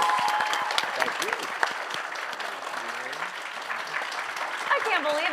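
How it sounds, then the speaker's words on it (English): Audience at a Gen Con tabletop game live show applauding the cast, a steady wash of clapping throughout with some cheers and voices mixed in. "I would like to go back around and thank and applaud for this awesome cast."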